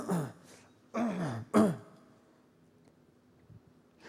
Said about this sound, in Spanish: tal vez uno de los hombres se haya carraspeado la garganta